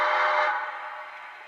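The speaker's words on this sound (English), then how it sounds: "here's the whistle" A single model steam locomotive whistle blows loud and clear, then fades out over a second and a half.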